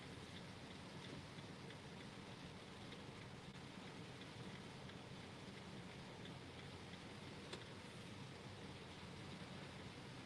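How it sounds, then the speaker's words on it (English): Heavy rain pours down in a steady, even hiss that never lets up, fairly faint overall with a single sharper tick partway through and no voices. "Look how bad it's raining."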